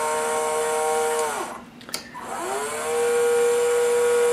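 Small electric motor of a Tamiya Arocs 4151 8x4 RC tipper truck whining steadily close up, dipping briefly in pitch and volume in the middle before rising back to a constant hum.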